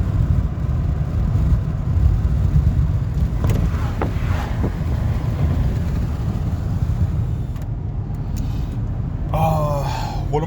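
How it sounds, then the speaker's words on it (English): Heavy low rumbling wind buffets the cabin of a 1993 Ford F150 on a test drive, steady and loud throughout with a few brief clicks and a short squeal near the end. "It's a little windy."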